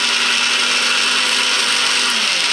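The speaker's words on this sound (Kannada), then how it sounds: "ಗ್ರೈಂಡ್ ಮಾಡ್ತೊಂದುಲ್ಲೇರು" An electric mixer grinder running continuously at high speed, loud and close with a steady whining roar and no speech.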